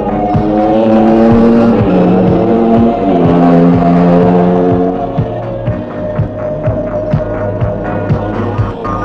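Several go-kart engines drone and whine loudly at racing pace during a 1984 junior-class karting race in Zalishchyky, with throbbing pitch shifts and rhythmic pulsing as karts speed past.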